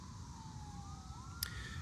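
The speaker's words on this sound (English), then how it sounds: "And yes, you hear sirens all the time." Faint emergency vehicle siren wailing far off across a city at sunset near the National Mall in Washington, DC, a single steady rising and falling tone over low traffic hum, with a brief sharp click near the end.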